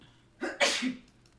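A single sharp sneeze with a short breathy intake before it, close and clear against a quiet background.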